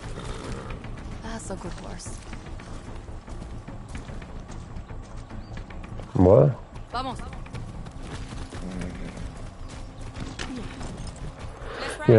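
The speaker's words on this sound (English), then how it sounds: "Yeah, get on the horse." A horse moves in Far Cry 6 with faint, steady clip-clop hooves under game sounds. A brief whinny cuts through, and people talk over it throughout.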